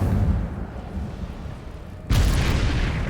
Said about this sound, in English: Oh wow, so it's like a bomb.